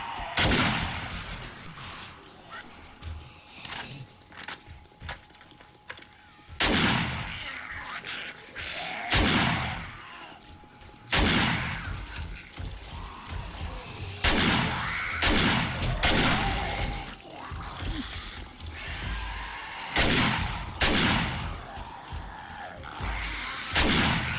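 Armor-piercing rounds fired in the zombie survival game 7 Days To Die: loud single gunshots boom one after another at irregular intervals, each with a short, heavy tail, over quiet ambient sound.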